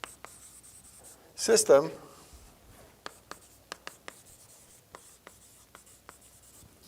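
Chalk or marker writing on a board during a doctoral lecture on partial differential equations, a series of short sharp taps and strokes spaced apart, following a brief spoken word from the lecturer.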